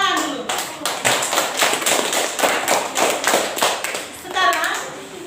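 A classroom of students clapping together after a teacher's prompt, a dense, steady patter of many hands lasting several seconds, fairly close and loud, with a voice speaking briefly near the end.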